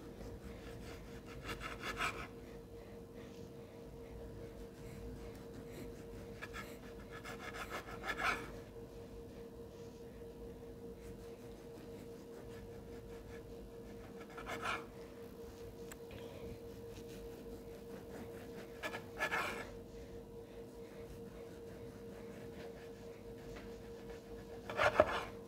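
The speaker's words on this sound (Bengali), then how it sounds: "এবারে পিস করি, পিসটা ঠান্ডা হলে করবেন" A knife saws through a traditional fruit cake, making soft, close rasping strokes in short bursts every few seconds against quiet room noise.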